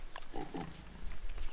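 Quiet, low grunts from a pig in the video game Don't Starve: Console Edition, a couple of short snorts over soft game ambience.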